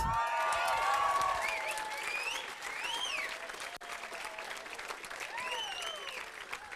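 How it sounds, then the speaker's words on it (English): Wedding guests applaud the bride at a reception, a steady patter of clapping with a few whistles and cheers rising over it, at moderate distance. "big round of applause for the bride herself, Ruth"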